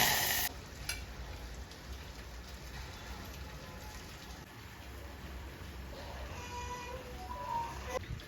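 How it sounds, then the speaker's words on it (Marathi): Curry leaves and garlic go into hot homemade ghee and sizzle, with a sharp burst at the start that settles into a steady crackling spatter. "तूप घालते मी घरचं पुरी टाकते कढीपत्ता आणि लसूण टाकते"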